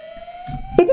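A steady alarm tone sounds in a video game set in an abandoned gas station and supermarket, then is cut off by a louder burst of clattering game noise near the end.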